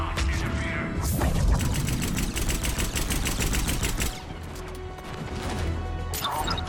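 Rapid bursts of automatic gunfire rattle almost continuously in a Mass Effect firefight, loud and close, with a short lull before the shooting resumes.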